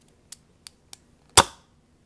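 A modded Nerf gun is primed with three light clicks, then fires a whistler dart with a sharp snapping pop that fades quickly, close and loud against a quiet room.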